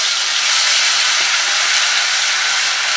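Fenugreek seeds frying in hot oil in a pan, a loud, continuous bright sizzle and hiss that holds steady from start to finish with no talking.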